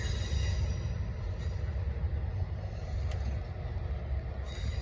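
Norfolk Southern freight train on the Charlotte District rolling steadily past up close, a dense continuous rumble of railcars and wheels with faint metallic squeal, loud and sustained throughout with no talk.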